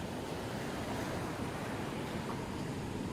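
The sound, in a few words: wind blowing in a music track intro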